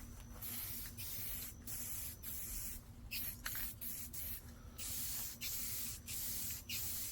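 A spray can lays a camo coat onto a rifle's M-LOK handguard in steady hissing bursts, roughly a dozen short sprays with brief pauses, close and continuous over a low background hum.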